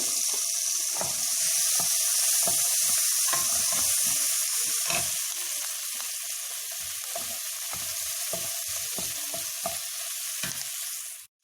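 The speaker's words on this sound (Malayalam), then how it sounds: "അപ്പോൾ വെളിച്ചെണ്ണ നന്നായിട്ട് ചൂടായിട്ട് വരുമ്പോഴത്തേക്ക് ആദ്യമേ നമുക്ക് ചെറിയുള്ളി ചേർത്ത് കൊടുക്കാം." Small shallots frying in hot coconut oil give a loud, steady, close sizzle with crackling pops, easing slightly toward the end before cutting off abruptly.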